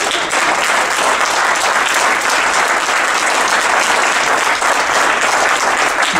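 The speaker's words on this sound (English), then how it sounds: "Why don't y'all celebrate yourself with a great big round of applause?" An audience at a talk on wealth and income inequality gives itself a big round of applause, a loud, even wash of many hands clapping that carries on unbroken.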